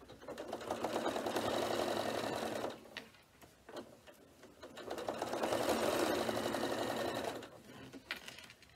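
A sewing machine stitches a fabric bag in two long runs, stopping briefly around three seconds in with small handling clicks, then starting again at a steady close whirr before stopping.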